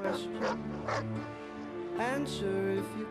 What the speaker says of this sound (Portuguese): O cachorro virou amigo dele agora.